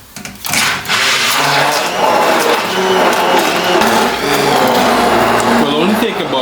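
A blender purees fresh strawberries for strawberry lemonade, a loud continuous whirring grind that starts after a brief pause and runs steadily throughout with some rising and falling pitch.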